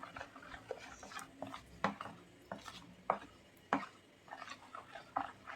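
Quick, irregular clinks and scrapes of a utensil against a bowl as zucchini pancake batter with milk and oil is stirred, fairly quiet and close.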